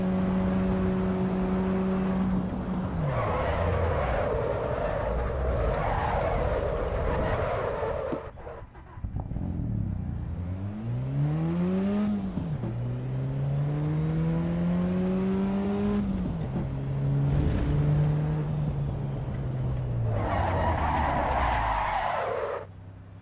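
Porsche race car in the Assetto Corsa Evo racing game, engine rising and falling through gear shifts with repeated tire skids and squeals, loud and continuous with a brief dip in the middle.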